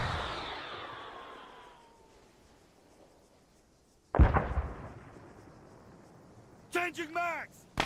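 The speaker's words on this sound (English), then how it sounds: "I wonder if I can hit it with an anti-tank round." In the Arma 3 Antistasi war game, a single anti-tank round fires with a sudden sharp heavy blast and rumbling tail after a fading whine, and a voice talks briefly afterward.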